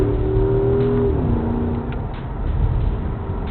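A Porsche Cayenne Coupe engine revs in sport mode, a loud continuous roar close by with the pitch climbing and then dropping as it shifts, holding a steady rumble with no talking.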